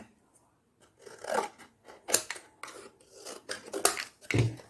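Scissors cut through a card sheet in a series of separate crisp snips and rustles, close and fairly quiet, spaced irregularly with short pauses between cuts.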